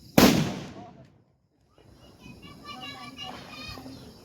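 Diwali firecracker shot going off outdoors, a single loud close bang that rings out and fades, followed by a lull and then children's voices and background chatter.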